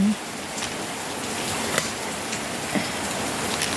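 Steady rain falls outdoors as a continuous broadband hiss with a few louder drips and taps, even and moderate throughout with no voices.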